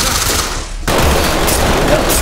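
Loud, sustained gunfire in a shooter video game, a dense continuous burst that drops out briefly and then resumes at full strength, filling the whole stretch without pause.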